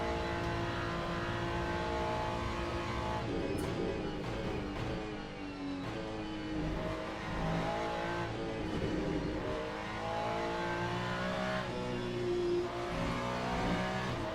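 A Ferrari 296 GT3 race car in the Le Mans Ultimate sim racing game, its engine revving loud and steady through gear changes for the whole stretch, with no talk over it.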